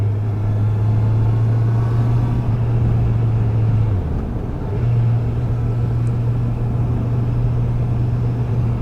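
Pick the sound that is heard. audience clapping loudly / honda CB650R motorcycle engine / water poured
honda CB650R motorcycle engine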